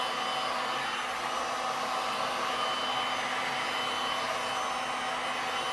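Hair dryer blowing steadily on a freeform geode resin craft piece, a continuous loud broadband whoosh with no pauses, heard alone without speech.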